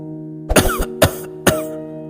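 An elderly man coughs three times in quick, harsh bursts, close and loud, with a low hum in the background.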